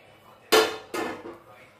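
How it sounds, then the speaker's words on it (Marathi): Metal lid lifted off a pot of steamed dhokla after the gas is turned off, two sharp clanks of metal close by, the second slightly softer and ringing briefly. "गॅस बंद केला आणि हे झाकण काढून घेऊ"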